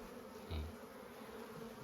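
Wild honeybees buzz steadily around an opened hive box during a honey harvest, a continuous close insect drone with a brief louder swell partway through.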